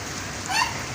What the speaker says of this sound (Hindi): बारिश हो रही है काफ़ी अच्छी।